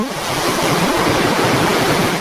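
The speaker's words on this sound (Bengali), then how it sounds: "প্রবাহিত পানির ঝরঝর শব্দ" Water rushes steadily in a Swiss mountain village, a loud, dense and unbroken flowing roar with no voices.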